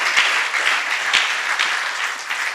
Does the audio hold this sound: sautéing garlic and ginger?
no